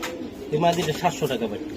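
Giribaz chila pigeons at a pigeon seller's, cooing in a few short soft bursts close by, under someone talking.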